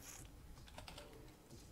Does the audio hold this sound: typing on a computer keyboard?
yes